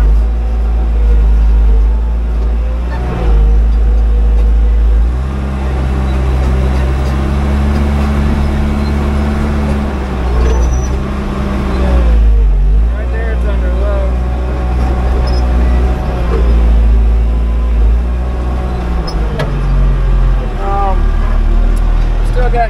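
Loud, steady diesel engine of a bulldozer straining and lugging under load while steering is attempted, a continuous close rumble with shifting pitch as the motor is pulled down, and a voice talking over it.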